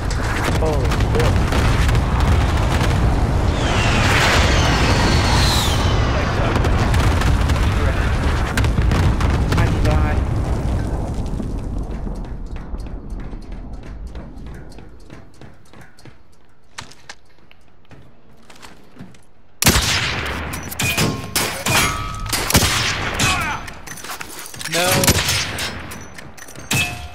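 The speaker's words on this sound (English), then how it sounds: "Enemy cluster strike incoming" Cluster strike and precision airstrike explosions in Call of Duty: Modern Warfare, with heavy rumbling booms and rapid blasts in a dense barrage that fades, then sharp gunfire bursts and more detonations break out close and loud.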